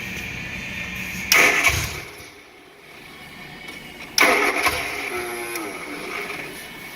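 A car engine cranks and catches twice, each start a sudden loud burst that settles into a rough running rumble.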